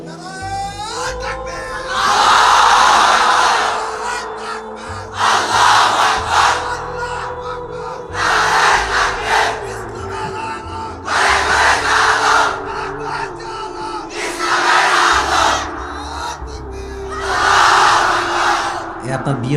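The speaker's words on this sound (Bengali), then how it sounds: "তুমি আরেকবার তাকবীর দাও" A large crowd shouts the takbir, Allahu Akbar, in unison: about six loud, roaring collective bursts come at regular intervals, separated by short lulls.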